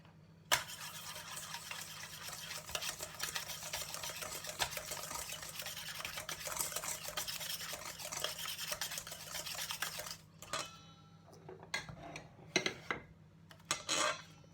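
Chocolate pudding cake batter is mixed by hand in a bowl, a fast continuous whisking scrape for about ten seconds, then a few scattered taps and clinks of the utensil against the bowl.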